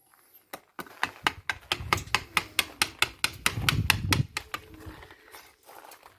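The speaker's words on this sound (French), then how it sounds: "Je vais prendre le ciseau moyen pour l'instant et le marteau. Et cette fois-ci, oh là là, cette fois-ci, il faut taper tout doucement." A hammer taps a medium chisel gently and steadily into aerated concrete while carving a bas-relief, giving about twenty close, sharp knocks in an even rhythm that speeds up slightly in the middle before tapering off.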